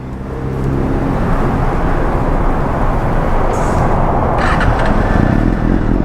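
A Kawasaki ZX6R motorcycle fitted with a Tiforce exhaust fires up and settles into a loud, close, steady idle, with a couple of higher-pitched mechanical whines partway through.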